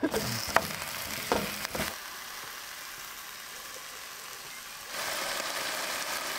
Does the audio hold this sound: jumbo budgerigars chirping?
no